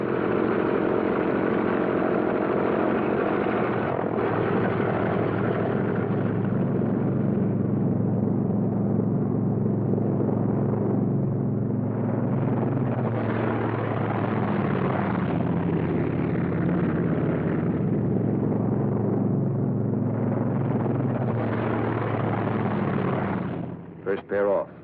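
P-47 Thunderbolt fighter planes take off in pairs, a long, loud, steady propeller-engine roar swelling and fading as aircraft pass, with a narrator speaking over it.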